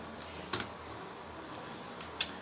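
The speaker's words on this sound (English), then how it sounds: "So we have to type in exit." Keystrokes on a computer keyboard while commands are entered at a console: a few sparse, sharp taps with quiet gaps between them, close and clear over a faint room hiss.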